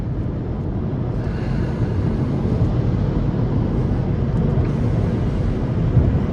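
An Audi Allroad A4 B8.5 engine pulls hard after an automatic transmission kickdown, a steady loud low drone with road and wind noise inside the car, holding constant for about six seconds without speech.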